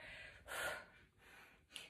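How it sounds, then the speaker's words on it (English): Heavy, hard breathing during a dumbbell curl set in a full-body weighted workout, a few loud, close gasping breaths and sharp exhales with short pauses between them and no talking. "Sorry guys if I'm breathing hard."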